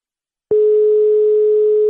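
Telephone tone heard while placing a call, a loud, steady single-pitch tone that starts abruptly after a brief silence and holds unbroken to the end.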